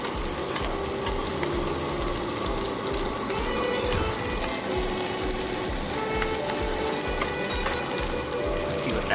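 Samgyeopsal pork belly with a garlic clove sizzles on a grill at an outdoor mountain restaurant, a dense, continuous crackling fry heard up close with steady spitting and popping.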